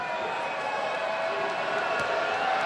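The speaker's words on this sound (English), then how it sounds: "You can hear the crowd." Basketball arena crowd murmuring and buzzing steadily through a free throw at a televised tournament game, a dense, continuous wash of many voices at even loudness.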